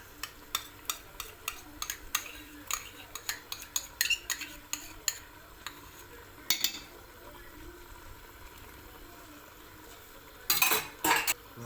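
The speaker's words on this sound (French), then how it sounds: "Vous remuez tout ça." A utensil clinks and scrapes repeatedly against a pot while tomato coulis, tomato paste and lamb are stirred for chorba with vermicelli, a quick irregular rhythm of close metallic taps that thins out and returns with a louder clatter near the end.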